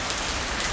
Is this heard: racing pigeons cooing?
no